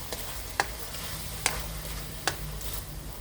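Chicken curry ingredients stirred and mixed in a hot pan, a soft steady sizzle with three sharp scraping clinks of a utensil spaced under a second apart, close and alone.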